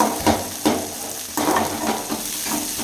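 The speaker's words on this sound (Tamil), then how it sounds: "நல்லா வதங்கட்டுங்க." Green chillies sautéing in a pan of oil for home-made noodles, a steady close sizzle broken by several scraping stirs of a spoon against the metal, with no voices.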